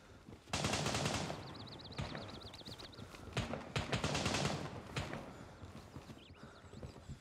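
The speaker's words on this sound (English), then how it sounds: "Is that you shooting?" Gunfire in the military shooter Gray Zone Warfare: a loud burst of rapid shots, then scattered bursts and single cracks at varying distance, with a high warbling electronic tone partway through.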